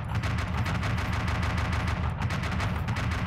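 Rapid automatic gunfire aimed at a pirate ship in the BeamNG Drive driving game, a dense continuous burst of shots rattling on without pause, loud and close, with no voices.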